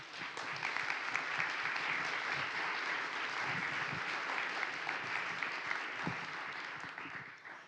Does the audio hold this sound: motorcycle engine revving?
no